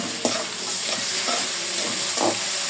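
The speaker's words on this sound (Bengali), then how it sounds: "আমার আলু পেঁয়াজ ভাজা হয়ে গেছে, বাকি মশলা দিয়ে দেব।" Spice pastes of garlic, cumin-coriander and dried chili frying and stirred in a pan with already-fried potato and onion: a steady close sizzle broken by a few scraping stirs of the spatula, with no voices.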